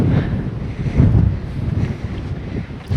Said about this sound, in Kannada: ಯಪ್ಪ, ನೂಗ್ತೈತೆ ಗಾಳಿ